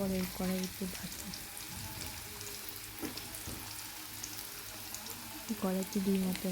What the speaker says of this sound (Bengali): এরপর কিছু আলু দিয়ে ভাজবো